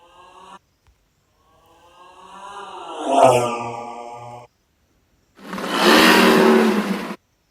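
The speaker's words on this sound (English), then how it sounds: "Add sound, motor speeding." Car engine sound effect of a motor speeding up, revving with a rising whine, then after a short gap a loud, rough roaring burst that cuts off; no one talks.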